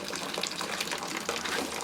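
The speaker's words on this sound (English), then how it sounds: "The water goes in the handle, around, catching the flame, and back out again into a container of your choice." Water gushes steadily out of a primitive flame-heated water heater fed from a plastic tank through a pipe and tube, pouring close and continuous into a container with no talk.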